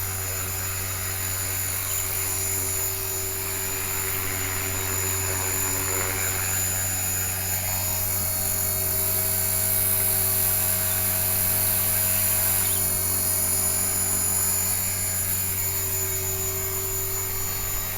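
An HK-450 RC model helicopter hovers and comes in to land on a helipad, its high, steady rotor and motor whine continuous and close throughout, with no talking.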